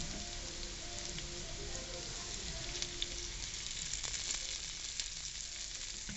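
Onions, garlic and chopped serrano peppers fry in a hot pan with bacon, giving a steady, close crackling sizzle with scattered pops throughout and no talking.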